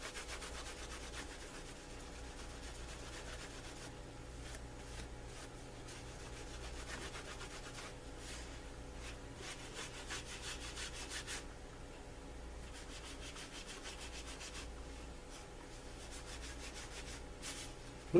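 Cloth wiping and buffing a topcoat onto a lined leather holster, a steady close rubbing and scuffing that runs continuously with brief rhythmic strokes throughout, with no talk.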